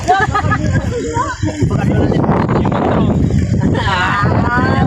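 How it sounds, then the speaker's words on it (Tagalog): Strong wind buffets the microphone with a steady low rumble, while people talk loudly over it throughout. "Lakas ang hangin."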